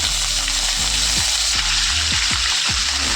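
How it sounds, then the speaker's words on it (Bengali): Large potato pieces sizzle loudly in hot oil in a pan, cooked vegetarian-style alongside paneer, with a steady close crackle and repeated scraping stirs of a spatula every half second or so. "আলুগুলোকে এবার একটু লাল লাল করে ভেজে নেব"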